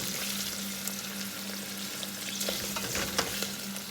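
Finely chopped onion, carrot and celery fry in a pan, sizzling steadily up close with occasional stirring scrapes.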